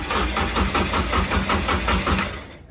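A car engine in a race shop turns over with rhythmic, pulsing chugs right after the ignition is switched on, loud and close for under three seconds before cutting off.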